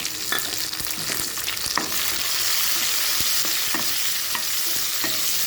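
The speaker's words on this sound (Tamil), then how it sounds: "நல்லா வதக்கி விட்டுக்கலாங்க" Chopped onions and tomatoes sauté in a pan for brinjal sambar, a steady close sizzle with scattered scraping stirs of a spoon against the pan, no talking.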